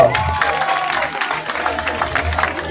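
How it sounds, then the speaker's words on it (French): An audience at an educational talk at Institut Lumumba applauds the pre-finalists as they stand: steady, dense clapping throughout, with crowd noise and voices mixed in. "Applaudissons pour nos préfinalistes."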